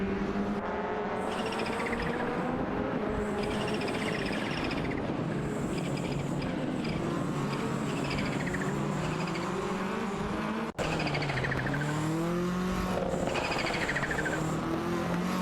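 Race cars including a Renault 5 Turbo and a Toyota Celica in a racing video game, several engines whining and rising through gear changes, continuous and close, with pitch sweeps as they jostle for position.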